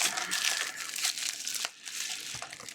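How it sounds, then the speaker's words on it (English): A small knife slices open a mail package, giving close, steady crinkling and tearing of packaging for nearly three seconds, with a brief pause before the rustling resumes. "just pop my little knife here out. There we go. Cut, cut, cut."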